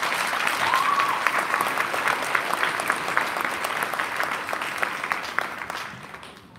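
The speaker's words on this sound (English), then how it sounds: "let's give our percussionists a round of applause." Sustained applause from an audience at a Christmas program, steady clapping that gradually fades toward the end.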